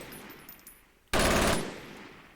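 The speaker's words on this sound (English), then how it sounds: "the full glory of the 1200 RPM MG42" MG42 machine gun in the Forgotten Hope 2 video game fires a single short, very rapid burst at 1200 rounds per minute, loud and close, after near silence.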